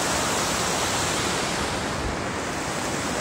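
Sea waves breaking on a beach at sunset, a dense, continuous roar of surf filling the scene with no voices.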